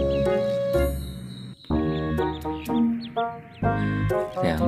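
Two fluffy yellow-and-black ducklings out on grass give a string of close, loud, high chirping peeps in quick bursts, with a short gap partway through.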